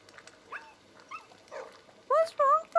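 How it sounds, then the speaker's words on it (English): A dog in the video game Pentiment gives several short barks and whimpers, the last ones loud and sharp, with faint sounds from the game between them. "It's not my dog, by the way, it's the game."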